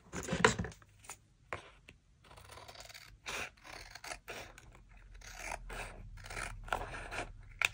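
Scissors trim the white edge of paper on a handmade hardcover junk journal: a quiet run of repeated snips and rustling scrapes in an irregular rhythm, close by, with no talk.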